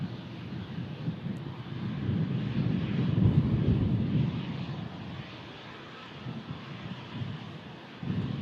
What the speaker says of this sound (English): TUI Dreamliners on the move again.